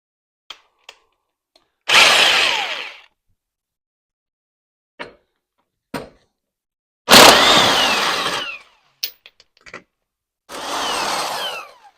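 A power tool with a 14 socket removes shock bolts on a Brute Force 750 ATV. It gives three separate whirring bursts of about a second each, loud and close, with small clicks and taps between them.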